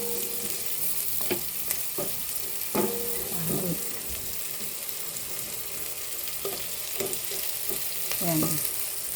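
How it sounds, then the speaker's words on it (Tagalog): Garlic and onion fry in butter in a pan, a steady soft sizzle with occasional clicks and scrapes of a spoon stirring, close and with no talking. "Lutuin muna natin yung garlic and onion sa butter"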